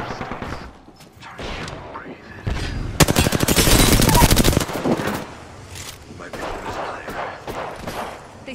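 Rapid bursts of video game gunfire fill a loud stretch in the middle, with scattered shots before and after under voiced game callouts.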